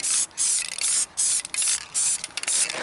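An aerosol can sprays a light coat of paint onto a 1959 Ford Galaxie, loud close hissing in several long bursts with brief gaps, no talking.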